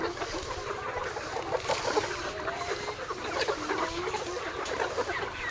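Layer hens cluck and murmur steadily in a noisy coop, with overlapping calls and scratchy background clatter throughout, fairly close and moderately loud.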